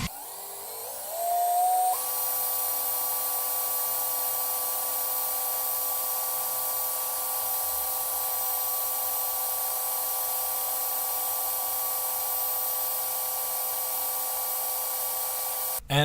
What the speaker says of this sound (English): you can just let your drill go full speed, and you'll end up with a great coil